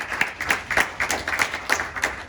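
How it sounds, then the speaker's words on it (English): Scattered clapping at a virtual class send-off, a few people applauding over a video call with distinct, irregular claps about every third of a second, moderately close and without talk. "Again, one last round of applause for Laura."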